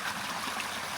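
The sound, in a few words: waterfall at Rainbow Springs State Park, Florida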